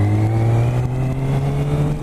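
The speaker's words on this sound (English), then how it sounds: "This engine is so smooth," A 2018 BMW K1600 GT sport touring motorcycle's engine hums and revs steadily up close, a smooth, loud drone with a strong low tone.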